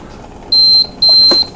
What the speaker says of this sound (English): when it beeps, it tells you that beep is turned off now